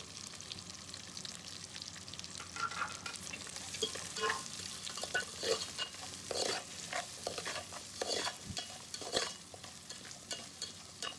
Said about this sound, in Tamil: நல்லா வதக்கணும். இப்படி நல்லா வதங்கணும்.